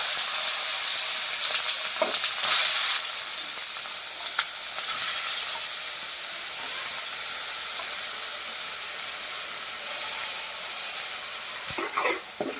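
Chopped tomato and onion fry in a pan as part of a fish curry, giving a steady, loud sizzle with hissing steam and occasional stirring scrapes, louder in the first few seconds and then settling into a continuous fry.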